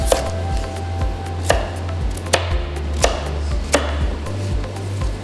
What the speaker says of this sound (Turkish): Köftelerimizin büyüklüğünde patateslerimizi doğrayacağız.